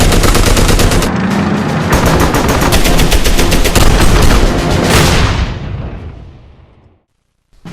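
Ambient gunfire recorded for the video game Medal of Honor: Airborne comes as dense rapid machine-gun bursts and booming shots, loud and sustained for several seconds before fading out into silence.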